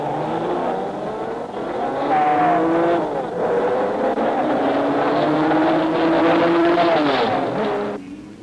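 Aston Martin DBR1 racing at the Nurburgring in 1959, a loud engine roaring and shifting pitch as it accelerates through gears for several seconds, heard alone without talking.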